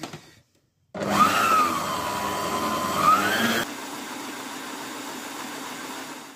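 An electric hand mixer whirs steadily through mascarpone and other tiramisu ingredients, starting abruptly after a brief silence, loud and continuous with a slight pitch swell, then dropping to a lower steadier hum for the final seconds.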